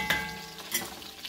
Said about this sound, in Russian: Жарится.